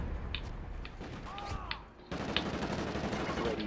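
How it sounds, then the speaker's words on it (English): Bursts of gunfire from a gold PDW fitted with a muzzle brake in a video game, with moderately loud reports early on that give way to a dense, louder roar in the second half. "Now with the muzzle brake, it's like big explosions out of the gun."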